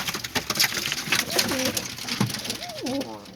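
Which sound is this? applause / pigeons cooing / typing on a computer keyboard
pigeons cooing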